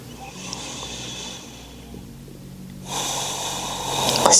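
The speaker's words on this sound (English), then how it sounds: "Take another breath." Deep breaths come slowly and audibly during a standing forward fold, Uttanasana, in a yoga session. A long exhale is followed by a stronger, breathy inhale, close to the listener with no talking.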